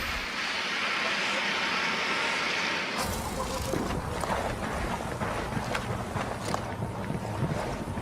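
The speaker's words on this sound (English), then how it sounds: "The drone is up." A drone flying in the video game Ghost Recon Wildlands, a steady droning whir over a windy rushing bed, shifting to a busier noisy texture partway through, with no talking.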